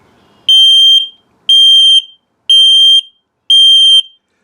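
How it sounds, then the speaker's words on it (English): Four loud, identical high-pitched electronic beeps from a carbon monoxide alarm signalling low battery in a Keystone Hideout camper, sounding at an even, slow pace, each lasting about half a second with a short pause between. "if it beeps the same tone but slowly like that, it's telling you your battery's low"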